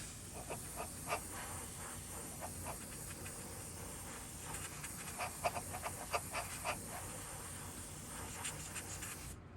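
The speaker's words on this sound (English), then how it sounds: "Dry that off with our airbrush." An airbrush blows a steady, faint hiss of air over a freshly painted purple swimbait to dry it, continuous with small fluctuations and no talking.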